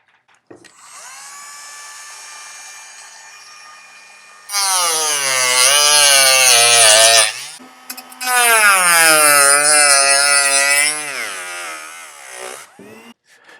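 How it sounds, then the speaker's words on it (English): High-pitched Dremel tool fitted with a cutoff wheel trimming a carbon fiber part: a steady whine spins up, then two loud grinding cuts with wavering pitch under load, each ending as the tool winds down. "The best thing I've found to trim is a Dremel tool with a cutoff wheel."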